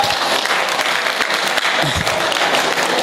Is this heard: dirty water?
no